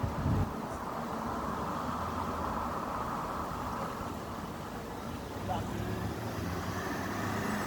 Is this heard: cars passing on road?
yes